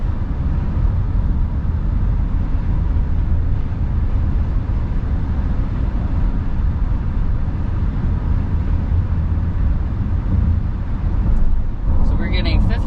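Steady, loud low rumble of road and engine noise inside the cabin of a 2022 Honda Passport TrailSport SUV cruising at 55 mph on a highway, constant throughout with a few faint knocks near the end.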